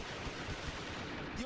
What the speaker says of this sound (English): The over-the-top display at a house in Michigan even comes with the rat-tat-tat of gunfire